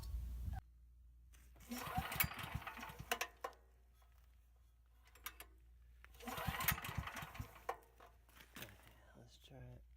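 A small engine is cranked with a coil pull start in two separate bursts of rattling, sputtering noise, each lasting about two seconds, with quiet gaps between them.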